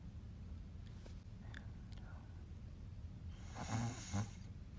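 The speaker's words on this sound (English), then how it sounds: "Did you hear that? That snoring sound?" A person snores faintly during a live stream, a soft, breathy rasp rising toward the end over low background hiss.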